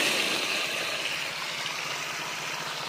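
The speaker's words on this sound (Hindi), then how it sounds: "देखिए पानी आने लगा है।" Irrigation water pouring into a dry farm field, a steady broadband rushing and gushing that stays loud and continuous throughout, with no voices.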